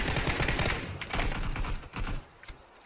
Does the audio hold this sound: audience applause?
no